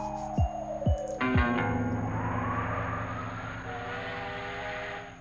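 A train in a Dragon Ball cartoon sounds several sharp descending whistle blasts, then rumbles past with a sustained horn-like chord and rolling rail noise, loud and close, with no talk over it.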